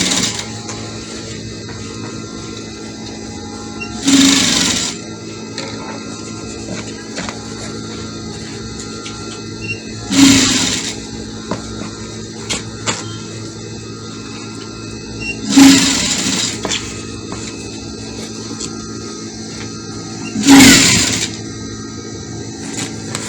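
A domestic sewing machine stitches African fabric for a hair bonnet in four short bursts spaced a few seconds apart, each a quick loud whirring run over a quiet background hum.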